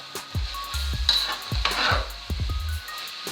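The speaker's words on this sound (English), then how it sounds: "stir it up and let it fry some more" Rice seasoning fries in a pan while a utensil stirs it, giving a bright sizzle broken by repeated scraping knocks and low thuds at an uneven rhythm, close and fairly loud.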